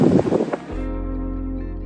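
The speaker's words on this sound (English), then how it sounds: "The waves crashing against the boulevard" Waves surge and wash against a seaside boulevard on Tenerife, a loud rushing roar that settles into a steady low wash with wind buffeting close by.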